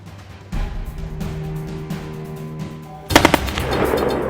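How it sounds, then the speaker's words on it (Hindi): Sudden enemy gunfire at a border post: a low rumbling background gives way to a loud, rapid burst of automatic shots near the end, followed by sustained noisy crackle. "पोस्ट पर अचानक दुश्मन की गोलीबारी।"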